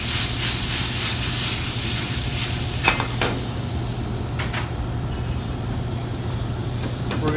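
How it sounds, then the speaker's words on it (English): Burgundy red wine cooking down in a hot pan, a steady hissing sizzle at close range with a few brief scraping taps, and no talking. "It's probably a tablespoon and a half of burgundy."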